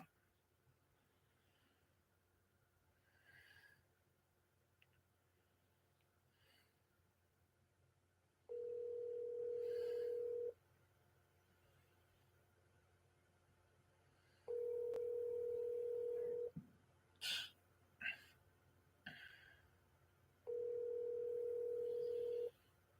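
Steady telephone dial tone sounding in three separate bursts of about two seconds each while a call is placed, with quiet gaps and faint background noise between them.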